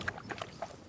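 A horse's hooves clip-clopping in the medieval game Kingdom Come: Deliverance II, a few quick, soft hoofbeats heard alone over a brief moment.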